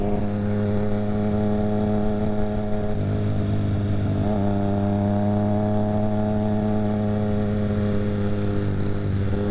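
A Triumph Street Triple R with its 3-cylinder engine holds a steady, loud, close idle-to-rev drone, the pitch shifting slightly twice but staying even and sustained throughout with no talk.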